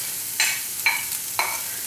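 Grated coconut is stirred and dry-roasted in a pan for a Malabar-style sambar, with three distinct scraping strokes of the spatula spaced evenly over a steady, quiet sizzle.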